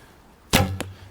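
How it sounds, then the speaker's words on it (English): A sharp twang and whoosh as an arrow is loosed from a Hermit X8 hunting recurve bow, then a brief distinct impact thump moments later, both close and loud in an otherwise quiet setting. "So focus, talking and shooting, huh?"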